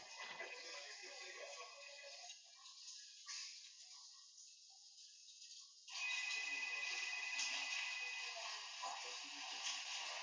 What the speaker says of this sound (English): it's about 73 decibels max when that phone's ringing in the background